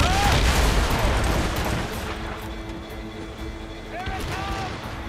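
Sailing-ship cannons firing in Assassin's Creed Rogue during a naval ambush, deep booming reports at the start fading into sea ambience, with a crew voice calling out near the end.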